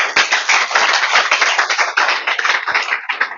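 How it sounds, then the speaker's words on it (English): Audience at a MindTalk talk event applauds, a loud, dense burst of clapping from a crowd that stays sustained and close for the whole stretch with no voices over it. "can you please give a big round of applause to the speaker today?"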